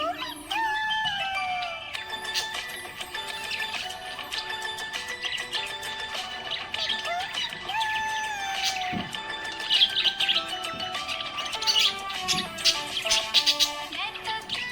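A pet budgie chirps happily, with continuous bright twittering and warbling calls that are close and steady, layered over a melodic backing for the whole stretch.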